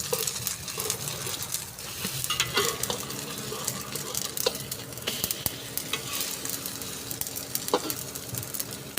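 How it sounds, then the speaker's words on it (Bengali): Eggs mixed with tomato and chili fry in a pan, giving a steady close sizzle and crackle throughout, with occasional sharp taps and scrapes of stirring. "মোটামুটি আমার ডিম ভাজা হয়ে গেছে আজকে সকালবেলা।"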